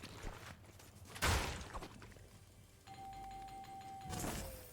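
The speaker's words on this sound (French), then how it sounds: "Je pète juste des sonnettes par plaisir" Doorbells in the video game Fortnite ring as they are smashed: a sustained electronic chime tone holds for over a second amid breaking impacts and game noise.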